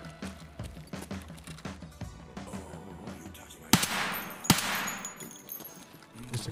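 Gunfire in the game Escape from Tarkov: two sharp shots ring out close together in the middle, set against a busy background of ongoing game noise.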